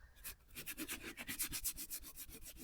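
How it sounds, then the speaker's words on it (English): Rapid rhythmic rubbing scuffs across painted furniture to lift chipped white paint from four coats, a quiet, steady back-and-forth scratch repeating about twice per second, close up. "I'm going to take some of that and we're going to start rubbing and see what comes off"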